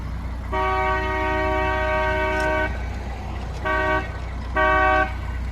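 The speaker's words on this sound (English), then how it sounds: "I'm just sounding the horn to let people know around the junction." A deep narrowboat horn blares one long blast, then two shorter toots, loud and steady against a low rumble, sounded approaching a canal junction.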